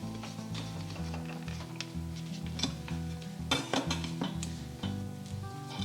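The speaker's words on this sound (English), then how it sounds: "we're going to flip it onto a plate" A cooled vanilla cake is turned out of its pan onto a plate, with a series of close clinks, taps and knocks of metal and crockery over a steady background hum.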